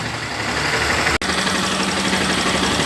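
A 2015 Honda NXR 160 Bros ESD motorcycle with a fault that makes it misfire at high revs when hot idles steadily close by, its engine chugging evenly apart from one very brief dropout partway through.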